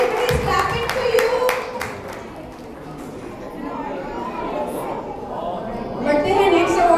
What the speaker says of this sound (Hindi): Everybody is clapping for you.